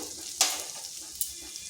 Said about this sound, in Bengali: ভালোভাবে একটু মশলাটা ভেজে নিচ্ছি।